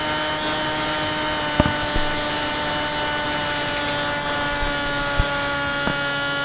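An FX-61 Phantom model plane's motor, just after throttle-up for a bungee launch, gives a steady, loud, high whine with a few sharp clicks.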